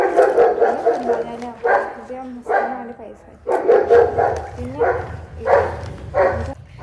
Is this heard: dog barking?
yes